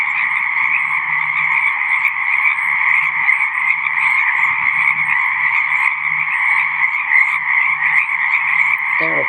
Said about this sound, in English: So listen now to the frogs which surround my home.